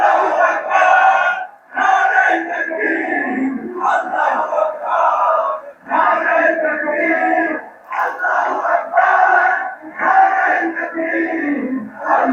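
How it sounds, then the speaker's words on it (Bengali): A large crowd chants the political slogan Nara-e-Takbir Allahu Akbar in a call-and-response pattern, loud rhythmic bursts of massed voices repeating several times with short gaps between. "নারায়ে তাকবীর আল্লাহু আকবার স্লোগান দিয়ে বর্তমানে রাজনীতির মাঠে রাজনীতি করছে কারা।"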